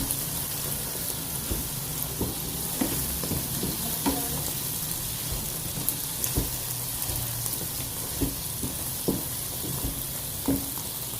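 Bottle gourd curry sautéing in a pan, with a steady, even sizzle and occasional soft stirring clicks and scrapes, close and continuous with no talking.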